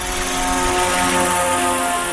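A Roban MD-500E 800-size scale RC helicopter's rotor and engine whine loudly and steadily, a close, droning buzz with a rhythmic blade chop that never lets up.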